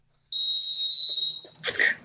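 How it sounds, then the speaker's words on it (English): A sharp whistle is blown once in a single long, loud, steady blast of about a second, followed by a brief burst of noisy sound at the end. "Blow the whistle."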